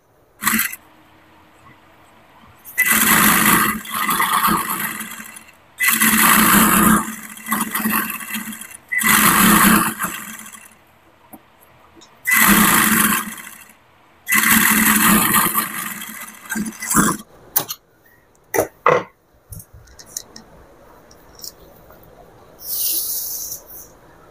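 A sewing machine stitches petticoat fabric in loud runs of whirring, about six bursts of a few seconds each separated by short pauses, followed by quieter handling noises and a faint final run.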